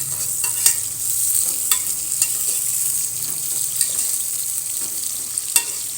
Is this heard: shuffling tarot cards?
no